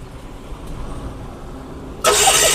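A second-hand Bajaj Mega auto-rickshaw idles quietly, then its engine suddenly catches and roars loudly up close for the final moments.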